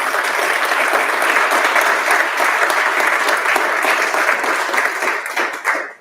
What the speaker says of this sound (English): Let's give a round of applause for Brian.